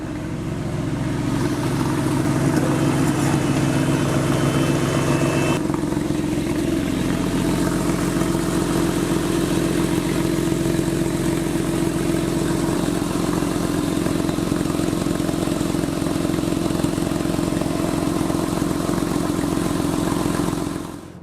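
A Porsche 911 with a freshly modified, freer-flowing exhaust idles steadily and loudly for about twenty seconds, a deep even burble with a slight shift in tone early on and no talking.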